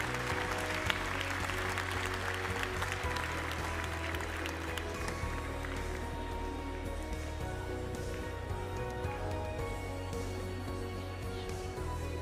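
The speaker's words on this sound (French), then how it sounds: "Je pense qu'on peut les applaudir" A crowd claps steadily in sustained applause at a Montbéliarde cattle show, a dense patter of many hands filling a large room from start to finish.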